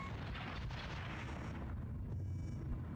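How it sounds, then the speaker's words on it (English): Over-the-top blasts in a Star Wars video game, a dense rumbling burst of low booms rolling continuously and fading slightly toward the end. "It's over the top explosions, just like how Star Wars is supposed to be"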